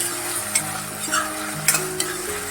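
Wild vegetable (fodshi) with onion and tomato being sautéed in a pan, steady sizzling and frying with a few sharp stirring scrapes, close and alone without talk.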